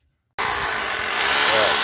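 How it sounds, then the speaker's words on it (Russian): Power drill boring anchor holes to mount a bracket for a submersible well pump, starting abruptly and running loud and steady at close range. "И сейчас ее бурим, прикручиваем на анкера."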